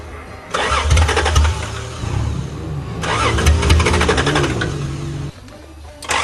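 A 1982 Toyota Cressida engine cranks and catches, then runs rough and loud with surging revs, cutting out briefly before restarting, all close to the listener.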